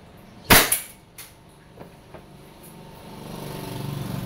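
WE airsoft Glock 17 Gen 5 pistol firing one sharp, loud crack, then a quick follow-up snap and a few fainter clicks, with low background rumble building toward the end.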